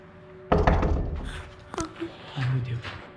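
A door is knocked in a basement, with a heavy thump and a cluster of knocks at the start, then a single sharp rap, as people talk quietly nearby.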